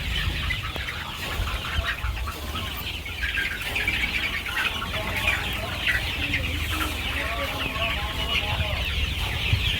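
Chickens, including roosters, cluck and chatter continuously on a poultry farm, several birds at once, fairly close, with a bit of background voice and farmyard noise.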